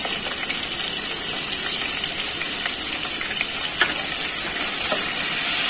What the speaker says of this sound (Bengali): এই চিংড়ি মাছগুলো আমি একটু ভাজা ভাজা করবো।